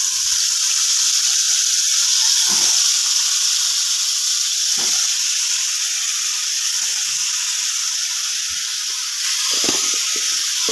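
Eggplant pieces fry in hot oil in a kadai with a steady, bright sizzle that holds throughout, broken by a few soft low knocks and bumps; nobody speaks.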